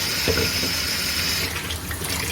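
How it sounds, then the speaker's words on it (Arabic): Water is poured from a tap into a pan of simmering tomato sauce for an eggplant parmigiana. The stream runs loudly and steadily for about a second and a half, then trails off into softer splashing. "ثواني بس احط لها شويه ميه"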